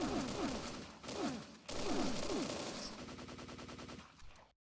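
Bursts of machine-gun fire from the 1989 Sega arcade shooter Line of Fire come in several loud rapid volleys with short gaps, ending in a quicker rattling run before cutting off.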